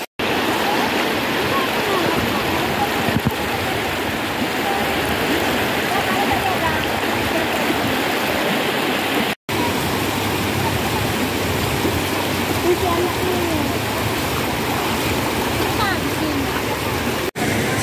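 River in the Philippine countryside flowing steadily, a continuous broadband rush of water, loud and close, with no pauses apart from one brief cut.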